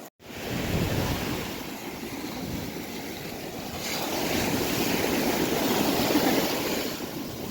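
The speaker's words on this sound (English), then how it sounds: "now we're just gonna go hang out at the beach for a little bit" Ocean surf rolling onto a beach under strong wind buffeting the microphone, a continuous loud roar that swells toward the end, with no one speaking.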